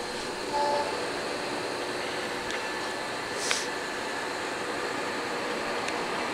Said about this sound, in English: So now you can see we've turned the chuck on. We have the threading screw moving right now.